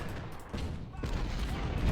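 Massed musket volleys in the video game Ultimate General: Civil War, a dense crackle of repeated gunfire bursts in quick succession, loud and continuous throughout.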